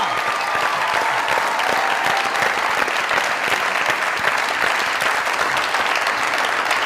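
A TV show audience applauds loudly, a dense, sustained wash of many hands clapping at close range, holding steady without a break for several seconds.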